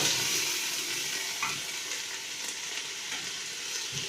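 Stock hisses and sizzles steadily as it hits a hot pan for spinach soup, a loud broad crackling wash with faint stirring sounds and no talking.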